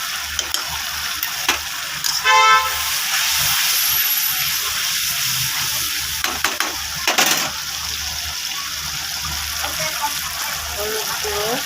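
Ginger-garlic paste and spices hit hot oil in a pan where fish has already browned, for a potato and fish curry. A continuous close hiss with a few sharper clatters and bursts of sizzle runs throughout.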